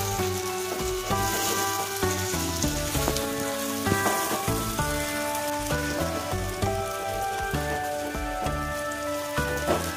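Beaten egg mixture sizzles in a pan with softened carrot pieces for spicy Maggi noodles, a steady loud crackling hiss with faint stirring clinks, close and without talk.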